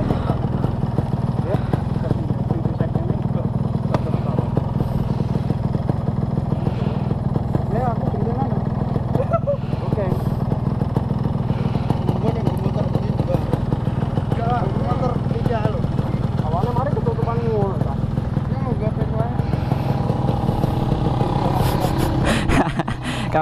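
Yamaha RX King two-stroke motorcycle engine running steadily throughout, a continuous loud low buzzing drone with slight revving variations, with voices talking over it.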